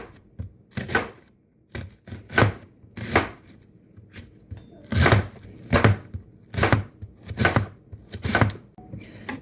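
A knife chops red onion on a cutting board in quick clusters of crisp, close knocks separated by short pauses. The sound is heard alone with no talking.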